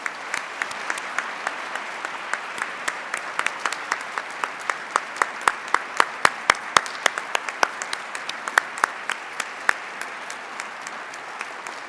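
Applause at a Faculty of Medicine assembly at the Université de Montréal: a sustained crowd clapping with sharp individual claps standing out, even and moderately distant for several seconds.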